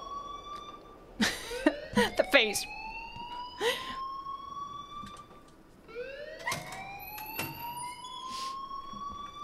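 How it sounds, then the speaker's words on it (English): Alarm ringing in the video game Life Is Strange: a steady rising-pitched electronic tone repeating through the scene, with short bursts of noise and a brief spoken voice over it. "please turn off that alarm since that's your job"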